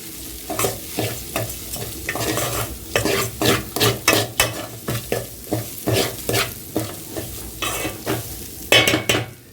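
Rice fries in oil in a sufuria, with a steady sizzle under repeated, rhythmic scraping strokes of a spoon stirring the pot, close and fairly loud, with no talking.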